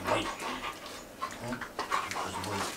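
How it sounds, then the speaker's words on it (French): A dog pants in quick, rhythmic breaths while playing with its owner indoors, close to the microphone, with some soft whimper-like sounds and faint background noise. "Greg joue avec son chien"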